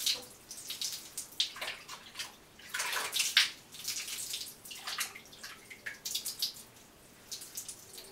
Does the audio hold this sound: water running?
yes